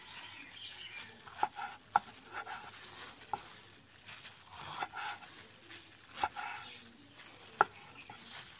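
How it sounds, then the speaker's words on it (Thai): Eggplant being sliced with a knife on a cutting board, giving a handful of sharp, irregular chops close by over a quiet kitchen background with light clatter. "มาหั่นมะเขือก่อนเจ้า"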